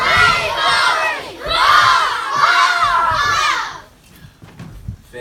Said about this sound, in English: Give them another big round of applause, you guys.